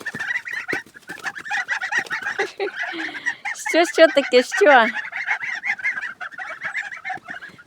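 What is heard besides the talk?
young geese calling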